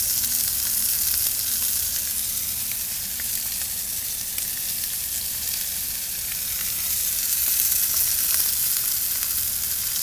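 Steak frying in a hot pan with mushrooms and onions gives a steady, loud, unbroken sizzle throughout, with no voices.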